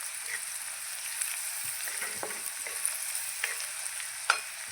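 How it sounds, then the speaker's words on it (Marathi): A soft, steady sizzle of cumin and turmeric frying in oil with onions, with occasional light scrapes and taps of a spoon stirring the pan. "आता त्यामध्ये मी अर्धा चमचा जिरं आणि अर्धा चमचा हळद टाकून मिक्स करून घेणार आहे"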